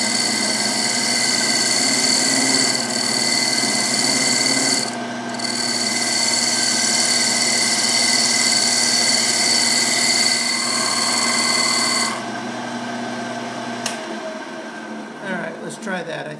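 Wood lathe turning a segmented potpourri box while a tool cuts a shallow pass on the outside edge, a loud steady whirring hum with rubbing tool noise that stops near the end, close and without talk.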